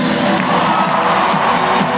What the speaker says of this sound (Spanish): un aplauso muy fuerte allá afuera